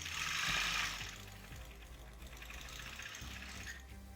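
A sewing machine stitches a quarter-inch seam, faint and close, with a brief louder whirring burst near the start, then a quieter continuous run.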